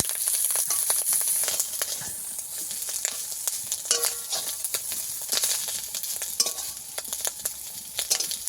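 Eggs fry in a little oil, a steady bright sizzle with scattered pops and spatters running throughout, close and fairly loud with no talking.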